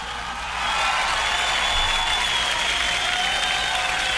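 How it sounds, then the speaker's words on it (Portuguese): Steady, dense applause rises after a brief pause and carries on loud and even to the end, honoring the listeners of a Brazilian community radio program. "Vamos aplaudir essas pessoas guerreiras que nos ouvem todos os dias."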